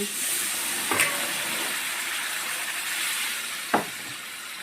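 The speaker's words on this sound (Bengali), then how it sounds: "কুসুম গরম জল দিয়ে দিচ্ছি" Pigeon meat curry sizzling and hissing in a pan as lukewarm water goes in: a steady, close frying hiss with two brief sharp splashes or clinks, no talking.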